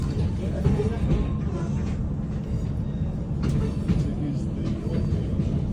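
A heavy, steady low rumble of a TransPennine Express train at Newcastle railway station, England, with voices mixed into the constant mechanical drone.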